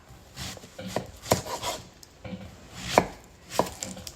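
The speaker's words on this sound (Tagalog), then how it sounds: "hiwain ko siya ng pahaba" A knife slicing food lengthwise into strips for barbecue on a cutting board, a run of soft close chops and scrapes in an uneven rhythm, with no talk.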